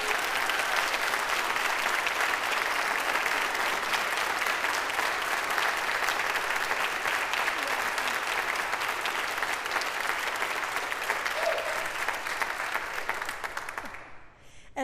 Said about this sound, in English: Could you please give Bryan English a big round of applause for his arrangements tonight?